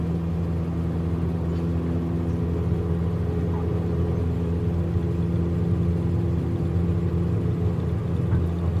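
Airliner engines in Microsoft Flight Simulator 2020 spool up for takeoff from LGA, a steady, loud droning rumble with humming tones that holds without a break, with no talking.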